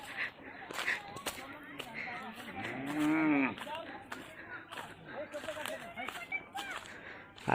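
A bull lets out one deep, drawn-out moo in the middle, loud and near, with farmyard rustling and movement around it.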